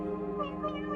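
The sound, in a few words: cat meowing in the video game The Stanley Parable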